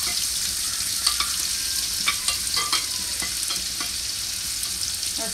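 Mustard seeds and garlic sizzle in hot oil in a home kitchen, giving a steady frying hiss with scattered small pops and crackles. There is no talk.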